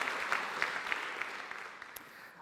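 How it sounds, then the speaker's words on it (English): An audience at a forum opening session claps, a quick rhythmic burst of applause that gradually thins and fades over a couple of seconds, with no voices on top. "a big round of applause for all of your team"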